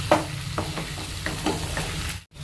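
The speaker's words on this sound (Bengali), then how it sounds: "এবার মা মোচাটা দিয়েও ভালোভাবে কষিয়ে নেবে।" Chopped banana flower is sautéed in oil in a pan for mochar ghonto. It gives a steady sizzle with a series of rhythmic spatula scrapes and stirs, ending with a brief cut to silence.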